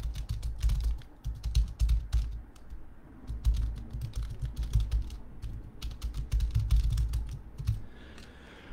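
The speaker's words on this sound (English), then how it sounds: "when I'm typing live is when all the typos happen" Rapid typing on a computer keyboard, close and continuous with clustered bursts of key clicks and brief pauses, over a faint room background without voices.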